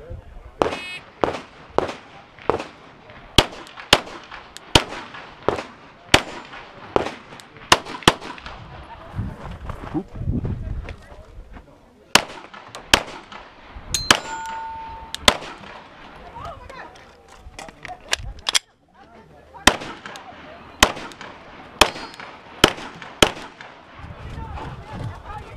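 Pistol shots ring out at a USPSA match stage in Oakdale, California, some striking steel targets: a rapid run of sharp, loud cracks in uneven bursts with brief pauses, and a voice talking quietly between strings.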